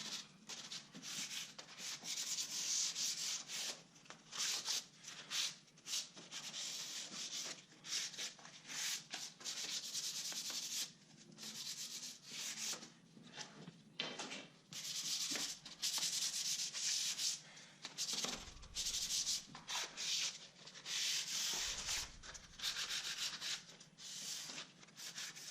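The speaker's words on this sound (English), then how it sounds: "I'll sand down the primer with a 220 grit sandpaper." Hand sanding of primer on a window frame with 220 grit sandpaper, steady back-and-forth scratchy strokes in quick rhythmic bursts, close and alone.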